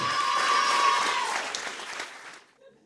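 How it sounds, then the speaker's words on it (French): Audience applause in a comedy show venue welcoming a 14-year-old comedian, a fairly faint, dense burst of clapping and cheering that fades out after about two seconds. "Faites un tonnerre d'applaudissements à 14 ans"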